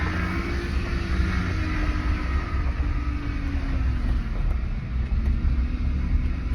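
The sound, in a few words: rough truck power steering pump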